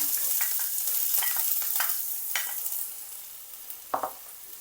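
Sliced onion and two green chillies sizzle in hot oil in a pan, a soft steady frying hiss broken by a few clicks and scrapes of stirring, no voices.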